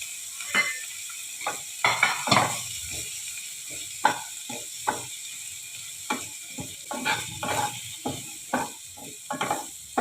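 Capsicum, carrot and curry leaves sizzling in a pan while semolina upma is prepared: a constant bright frying hiss under repeated uneven scrapes and clatters of a spoon stirring the vegetables, close and fairly loud.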